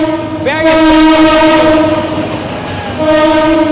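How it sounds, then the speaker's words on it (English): A train passes on the tracks, its horn blaring loud and close in a long sustained blast that breaks off and resumes, over a steady rumble of the moving cars. "There are people who don't move when the train passes, who are working in the middle of the track."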